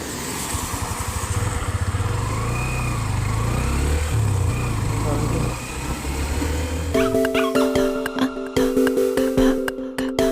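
A motorbike rides along a road through the Konkan countryside near Sherwal, Khed, with a steady engine drone for the first seven seconds. After that the drone gives way to sustained tones and sharp rhythmic clicks.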